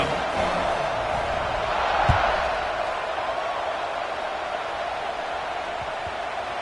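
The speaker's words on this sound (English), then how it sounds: "They're set to kick it off, and this crowd now ready to get behind them." Steady roar of a large stadium crowd at a college football game kickoff between Colorado and Clemson, a broad continuous wash of voices with a brief thump near the middle, no clear talk on top.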